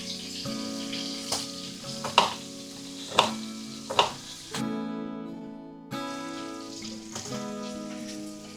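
Chicken sizzles steadily in a hot pan for a buckwheat and chicken ragout, with occasional clinks of stirring and faint background music.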